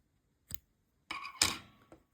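Scissors snip crochet yarn short, a few quick close clicks and a brief rustling cut, crisp and isolated against silence.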